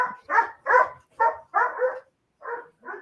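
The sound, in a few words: dogs whimpering and barking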